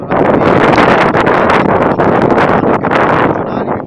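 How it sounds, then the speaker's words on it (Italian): Strong wind buffets the microphone outdoors in Treviglio, Italy, a loud, continuous roaring rumble with gusty swells that stays steady throughout, with no other clear sounds. "c'è un vento matto"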